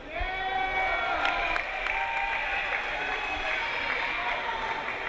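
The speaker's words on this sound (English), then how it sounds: "Trainer getting a little bit of applause from the crowd for cleaning up the floor." A volleyball match crowd applauds a trainer who has just cleaned the floor, with scattered clapping spread through the gym under a steady tonal hum, continuing at an even level.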